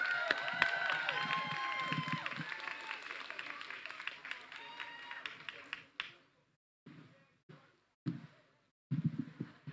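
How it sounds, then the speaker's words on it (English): Applause and cheering from an outdoor rally crowd protesting the Kavanaugh nomination as a speaker is welcomed, a dense burst of clapping and voices that thins out and breaks into scattered, fading bursts toward the end. "Let's give her a round of applause."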